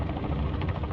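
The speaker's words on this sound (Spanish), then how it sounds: "ese es el helicóptero" A helicopter in the Call of Duty Modern Warfare III video game gives a steady, dense rotor rumble and mechanical whir that holds without a break, with no voices over it.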